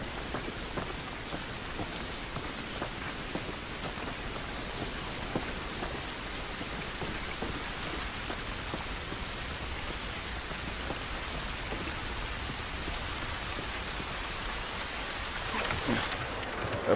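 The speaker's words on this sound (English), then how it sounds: "This rain ain't gonna do us any good." Steady rain pours down in The Last of Us, a dense, constant hiss of drops on surfaces with a faint hint of distant thunder, heard alone throughout at moderate level.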